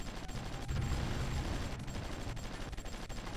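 Naval escort ships in a strategy video game fire on shore garrisons, a faint, continuous rattle of gunfire with dull rumbling thuds in the distance, no voices.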